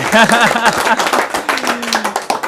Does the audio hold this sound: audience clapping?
yes